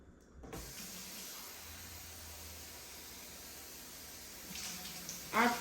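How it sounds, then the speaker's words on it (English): Cold water runs steadily from a kitchen tap as a Nigerian meat pie is being made, a continuous broadband hiss lasting several seconds before a brief clatter near the end. "add cold water."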